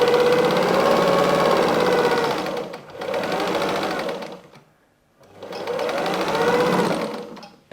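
A sewing machine runs a small stitch along a fabric seam for a patchwork block, with three steady buzzing runs separated by brief pauses, loud and close.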